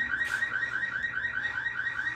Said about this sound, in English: She just triggered the alarm now, and now we're fucked.